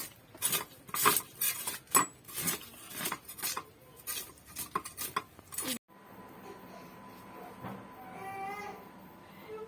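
A large tilapia is chopped on a board, a run of close, rhythmic knocks and cuts for several seconds, then a quieter stretch of softer handling noise.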